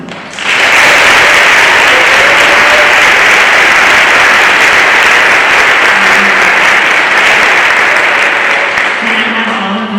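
Loud, sustained applause from an audience at a school awards ceremony, steady dense clapping for about ten seconds with no talking over it.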